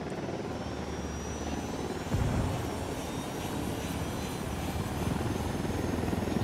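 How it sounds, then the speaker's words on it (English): A helicopter's rotor chop and engine drone in Ghost Recon Wildlands hold steady throughout, loud and close, with a brief thump just past the two-second mark. "I can hear helicopters buzzing everywhere."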